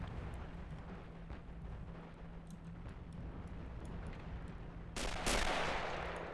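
Distant infantry gunfire rattles through a steady battlefield din in the Men of War video game, a realism-modded battle, ending in a louder burst of shots near the close.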